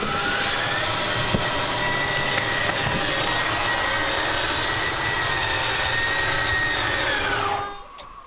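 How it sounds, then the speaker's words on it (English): An RV slide-out motor running on a Jackery Explorer 1000 portable power station extends the room with a loud, continuous mechanical whine and hum that holds steady for about seven seconds before winding down abruptly, with no talking. "When I hit this button out, you'll hear the slide out go out, start going out"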